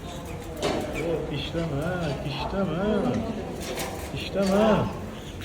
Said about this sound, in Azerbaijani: Quşlar, nə gözəl oxuyur.